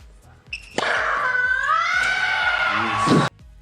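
A tennis player lets out a long, loud, wailing scream during a rally, sustained for over two seconds over the rhythmic thump of ball strikes and footwork.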